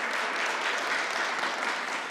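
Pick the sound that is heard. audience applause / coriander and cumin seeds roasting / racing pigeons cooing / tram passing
audience applause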